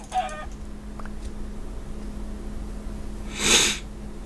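Chickens in the Minecraft Tekkit video game, with a short cluck near the start and a louder, noisy squawk-like burst near the end, over a steady low background hum.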